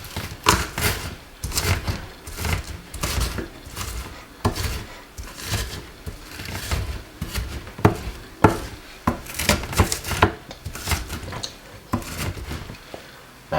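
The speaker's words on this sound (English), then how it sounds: "I'm gonna simply use my garlic press" A garlic press crushing cloves of garlic at a kitchen table while preparing Jamaican oxtail marinade, a series of close clicks, clacks and squeezing knocks in irregular rhythm.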